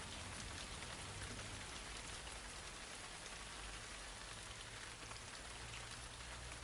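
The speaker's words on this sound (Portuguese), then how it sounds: "A chuva forte fez uma parada nas escavações." Heavy rain pours down on an excavation site, a dense, even hiss of drops striking the ground and surfaces, steady and unbroken throughout with no voices.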